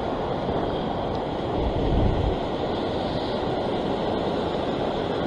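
Sea surf washes steadily against rocks at a fishing spot, a continuous broadband roar mixed with wind buffeting the microphone, with one heavier swell surging briefly near the middle. No voices.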